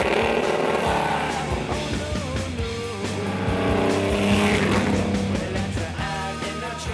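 A race coupe with a BMW six-cylinder 2-litre engine fed by three horizontal Weber 40 carburetors roars steadily at close range, its note rising and falling with throttle, loud and continuous.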